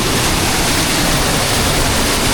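Strong rushing water pouring in a constant loud broadband roar, close and unbroken, with no voices over it.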